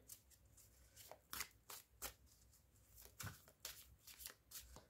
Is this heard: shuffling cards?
yes